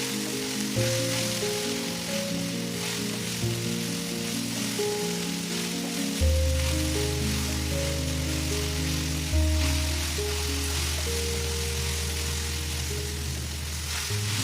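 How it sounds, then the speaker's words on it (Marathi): Okra (bhindi) sizzling steadily as it fries in a pan with tomato while being stirred, a constant hissing crackle under background music with no talking. "असं सगळीकडे ढवळत राहिलं की भेंड्या पण एकसारख्या फ्राय होतात"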